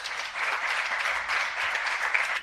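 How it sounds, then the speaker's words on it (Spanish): An audience at a Thales RailBreak talk breaks into applause after a presentation, a continuous even wash of many hands clapping, steady in level throughout with no voices on top. "Un aplauso."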